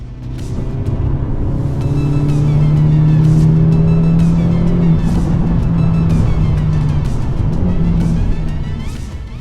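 Loud, close race car engine holding high revs as the driver takes a track corner smoothly, the pitch sliding up and down with gear changes and throttle, with a faint squeal from the tyres underneath.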